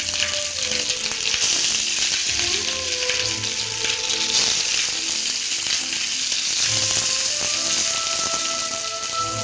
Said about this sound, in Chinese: 鱼下锅之后，那就是中小火，火不要太大。